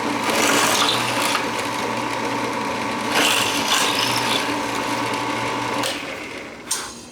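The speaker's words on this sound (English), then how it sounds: "It drilled through that like it wasn't even there." A Shopfox W1848 drill press bores through wood with a loud, steady whirring grind that runs for about six seconds, then the motor winds down and a short knock follows.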